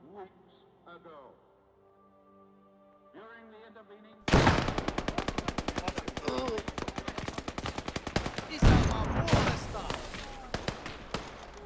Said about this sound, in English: it's the guy currently shooting at us